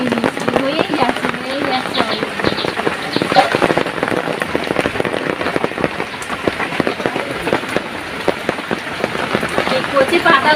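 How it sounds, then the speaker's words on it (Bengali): Heavy rain pours steadily in a village setting, driven by strong wind, a dense, continuous hiss and patter of drops hitting surfaces, close and unbroken throughout. "সারাদিন বৃষ্টি হচ্ছে, আর সঙ্গে জোরে হাওয়াও বইছে"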